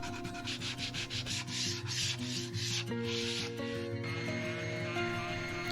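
Sanding an end-grain wooden cutting board with 100-grit abrasive: a steady, close rubbing hiss that pulses in repeated strokes, loud and continuous throughout, with no talking.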